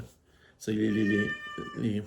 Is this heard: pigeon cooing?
no